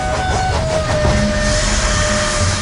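A commuter train rumbles into a Mumbai suburban station, its steady loud roar and clattering wheels continuous throughout, with a faint metallic whine on top and no talk.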